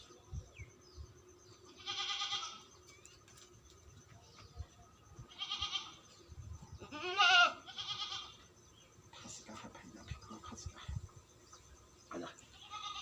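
Goats bleat several times at spaced intervals, each call a short wavering cry that stands out over quiet outdoor background noise, with one louder, closer bleat in the middle.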